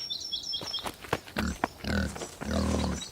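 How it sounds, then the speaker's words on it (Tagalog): A pig squeals in loud, strained bursts, several cries rising and breaking over about three seconds, with snorting grunts in between, close and alone with no talk. "Nandito na ang baboy!"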